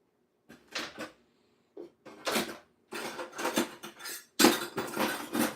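Teaspoons and metal utensils clatter and clink in bursts during home banana bread baking, the irregular rattles growing busier and louder toward the end, with no voices.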